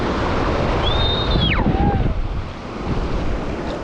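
Black Sea waves wash onto the shore in a loud, continuous roar mixed with wind buffeting the microphone, and a faint sweeping whistle-like tone passes briefly above it.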